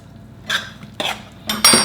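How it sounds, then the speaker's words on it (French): A spoon stirring flaxseed porridge mixture in a bowl, three distinct scraping, clinking strokes spaced about half a second apart, close and fairly loud with quiet in between. "Là, on mélange bien."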